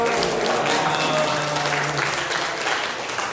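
A congregation claps loudly and steadily in a church worship service, a sustained burst of applause welcoming the preacher to the pulpit, dense and continuous throughout.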